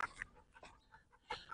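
A German Shepherd female, agitated after jumping practice in an obedience course, pants in a few short quick bursts of breath at close range, with no talk over it.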